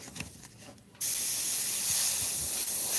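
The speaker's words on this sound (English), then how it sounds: "First, I'll spray it" Airbrush spraying Createx paint onto synthetic paper: a short, quiet lead-in, then a sudden steady hiss that starts abruptly and holds loud and even, close by.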